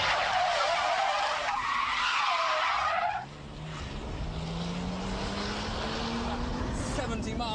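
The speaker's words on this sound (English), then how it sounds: "it's time to take on the 360 spin challenge" A car performs a 360 handbrake spin, tyres squealing loudly in a harsh sustained skid that cuts off abruptly, then a steadier engine drone rising in pitch as it pulls away.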